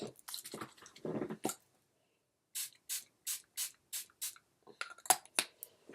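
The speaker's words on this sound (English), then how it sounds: "spray my face with my Too Faced spray" Too Faced setting spray misted onto a face, an opening burst of hisses followed after a pause by a rapid series of six or so short, crisp pump sprays, close and alone.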